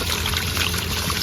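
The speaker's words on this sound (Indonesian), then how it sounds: "ini ada sumber air, keran air" Water runs from an outdoor tap at a campsite in a quiet pine forest, a loud continuous close-up pour with no pauses.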